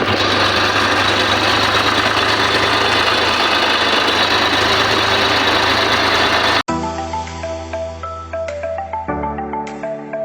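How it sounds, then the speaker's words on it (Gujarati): A farm tractor engine runs in a village setting, a loud, steady idling drone with a rough, knocking pulse that cuts off abruptly partway, followed by a brief electronic ringtone-like chime pattern. "ગામમાંથી વિસો સડી ગયો ટ્રેક્ટરમાં"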